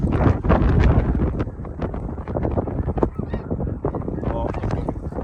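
A large flock of snow geese honks in flight during a spring goose hunt, a dense, continuous clamor of overlapping calls, loud and busy throughout, with wind buffeting the microphone.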